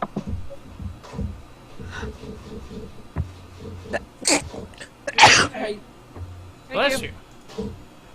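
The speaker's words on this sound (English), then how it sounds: "I was trying not to sneeze at you guys, but didn't work" A single loud sneeze from a person bursts out partway through, standing out sharply against quieter background talk and shuffling, with a smaller sneeze-like burst following soon after.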